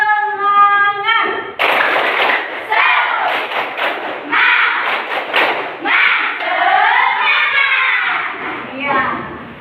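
A class of schoolchildren stand and do a spirited rhythmic clapping chant, sharp synchronized claps and thumps mixed with loud young voices shouting and chanting together close by, following a brief adult voice.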